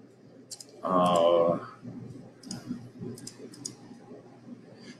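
Computer mouse clicks come through as a few sharp, quiet ticks spread across a short stretch, with a brief louder burst of other sound near the start and low background noise throughout.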